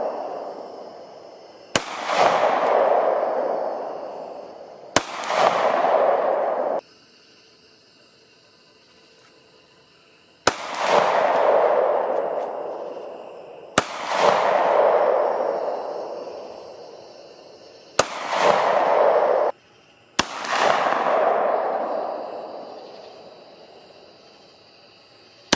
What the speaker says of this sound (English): So there you have it, streak visual ammunition. A blast to shoot, pretty genius.